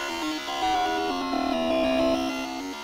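The Entry 17 garbage noise from Undertale is a dense, droning wash of layered tones that shift in pitch step by step, steady and murky throughout, with no voice over it.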